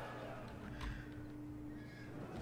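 Horses neighing in the video game Total War: Rome II, a faint whinny rising briefly over low battle ambience and a steady background tone.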